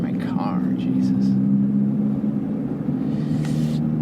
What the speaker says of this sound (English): Because you don't want to just hear my car